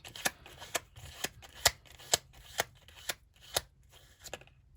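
Tarot deck being shuffled by hand, a run of about nine crisp riffle bursts in a steady rhythm, close and clear with no talk.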